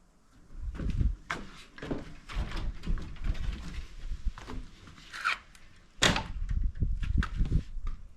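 An antique wooden door on an old village house near Fethiye is handled and opened, giving a series of close knocks, scrapes and creaks spread irregularly through the clip with a louder clunk near the end; no one speaks.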